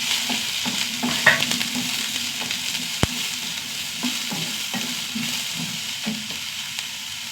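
Green chillies, onion and curry leaves fry in a pan with a constant sizzle, broken by scraping stirs and one sharp clank of the spoon against the pan.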